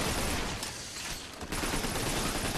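Gunfire in Lost Planet, a dense rattling fusillade of rapid shots that barely lets up, loud and continuous with a brief dip before resuming at full intensity.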